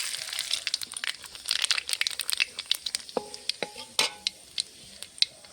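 Bay leaf, dried chilies and black cumin hitting hot oil in a pan, sharp crackles and sizzling pops that thin out into sparse, distinct snaps toward the end, no talking.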